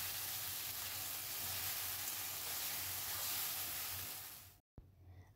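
Onions frying in oil with a steady broad sizzle as green chili masala paste goes into the pan, the hiss continuous and close before cutting off near the end with a brief clatter.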